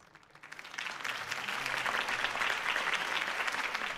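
Crowd applause swells in after a brief quiet start and holds as steady, dense clapping from a large audience, rewarding Harvey Dent's campaign speech in a Batman video game.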